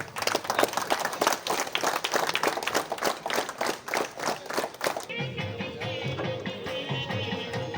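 An audience claps at a school flag-hoisting ceremony, a dense burst of applause that fades after about five seconds into steady background noise and a faint voice.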